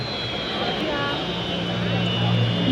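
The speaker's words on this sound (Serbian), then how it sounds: "Pripremu za poletanje aviona M62 Super Galeb, poznati kao G4." A G-4 Super Galeb military jet readies for takeoff at Batajnica airfield during an open day, a steady whining turbine roar beneath a commentator's voice.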